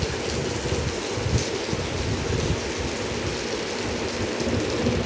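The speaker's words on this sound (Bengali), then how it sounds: "বৃষ্টির শব্দ শুনলেই মন ভালো হয়ে যায়।" A steady, dense wash of morning rainfall pours down without pause, even and moderately loud, with low rumbling underneath and no voices.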